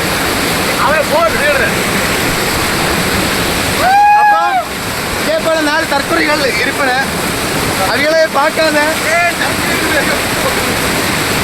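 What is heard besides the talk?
Aruvikkarai waterfall rushing water, Kanyakumari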